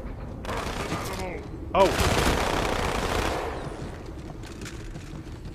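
Halo 2 gunfire rips out in dense automatic bursts, with one short volley followed by a longer sustained stream, loud and close, and a brief voice exclamation in between.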